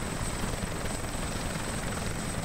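A helicopter hovers in the combat game ArmA, its rotor and engine forming a continuous, even broadband roar that stays steady and moderately loud throughout, with no voices.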